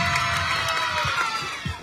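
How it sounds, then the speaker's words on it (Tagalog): A live variety-show audience at a community service-day event cheers and claps, a continuous crowd roar with shouts rising over it, steady and fairly close throughout. "palakasan ng palakpak para kay Jana"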